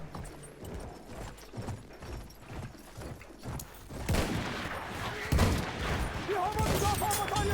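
Gunfire in the Battlefield 1 video game during a cavalry match, with horse hoofbeats clip-clopping early on and then denser, louder shots and explosions filling the second half.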